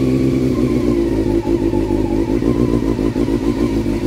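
A motorcycle engine runs close by with a throaty, pulsing idle and blips of revving, loud and steady throughout, with no one talking.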